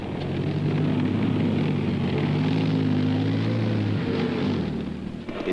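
Military aircraft in archival war footage from the Arab-Israeli conflict, a steady droning engine roar held for several seconds before fading slightly at the end, with no speech.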